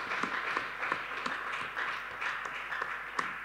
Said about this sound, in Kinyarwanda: Ukomera Imana yacu amashyi menshi cyane.